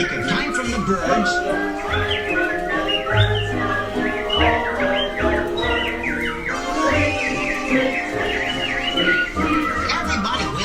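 Animatronic birds in Disney's Enchanted Tiki Room whistle and warble in chorus, bright overlapping chirps and trills over a steady musical backing, close and continuous throughout.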